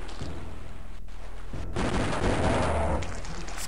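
Doubled akimbo weapons blaze away in the video game Blood, a dense, continuous roar of rapid gunfire that grows louder and busier partway through, with no talking.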